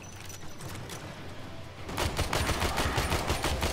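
Automatic gunfire from a gun in the video game Warframe rattles in a steady rapid stream, quieter at first and then louder and denser partway through. The shots sound close, with no talk over them.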